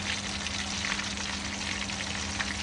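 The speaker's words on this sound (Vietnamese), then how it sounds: "con cá được mình chiên ục bịch ục bịch ở trên cái bếp rồi" Fish frying in a pan on a stove, a steady close sizzle with continuous crackle and faint popping throughout, no talk.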